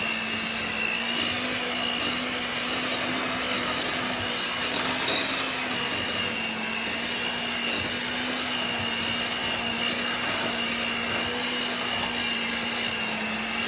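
An electric mixer whirs through cookie dough in a home kitchen, a loud, continuous motor drone with a steady pitch and no breaks, no voices over it.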